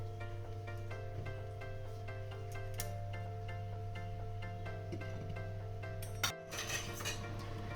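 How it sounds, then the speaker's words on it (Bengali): A lid is lifted off a pot of simmering chicken keema ghugni in a home kitchen: one sharp metallic clank, then a brief rush of steam over a quiet, steady background hum. "ঢাকনাটা তুলে নেব।"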